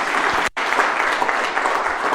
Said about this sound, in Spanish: Démosle un fuerte aplauso al Señor en acción de gracia.